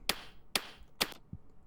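An isolated kick drum track run through a kick plugin, with four short, sharp, clicky hits spaced about half a second apart, the last one softer and duller, all fairly quiet.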